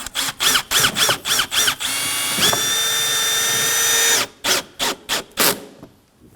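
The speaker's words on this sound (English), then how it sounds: "I like to use one of the bolts with a drill, and we're going to go ahead and make the hole" Cordless power drill driving a bolt into a Kia Sorento front bumper to make a mounting hole, first in short repeated bursts, then one sustained high whine, then a few more short bursts, close and loud.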